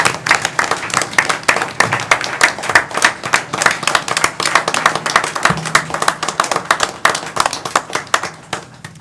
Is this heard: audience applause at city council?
yes